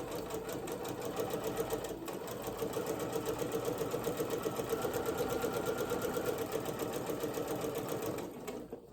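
A sewing machine runs at an even pace stitching along a marked line, its rapid mechanical whirring rhythm continuous for about eight seconds before stopping, with a brief slowdown early on.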